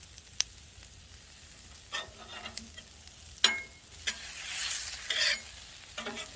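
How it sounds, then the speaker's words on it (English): Potatoes and bacon fry outdoors on a 36-inch flat top griddle, with a steady close sizzle broken by sharp scraping stirs of a spatula every second or so, and no voices. "We're gonna get our potatoes down."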